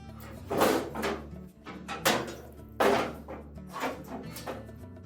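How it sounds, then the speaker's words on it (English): A plastic blower housing cover on a Whirlpool dryer swings back into position during a blower wheel replacement, giving a few close, hollow clunks and scraping rattles with short pauses between, and no talking. "next we'll pivot the blower housing cover back into position"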